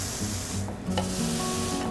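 Salmon sears in a hot pan for tataki, producing a loud, dense, continuous sizzle with occasional scraping as the fish is gently turned and pressed.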